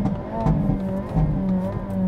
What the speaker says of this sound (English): backfires all the time in the Elantra N, so I guess we should probably take a listen from the outside